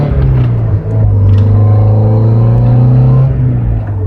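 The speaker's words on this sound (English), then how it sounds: "I have a stock exhaust on this thing," Stock exhaust on a Mazda Miata revving steadily, a loud, close, sustained engine drone with slight rises in pitch, heard alone without talk.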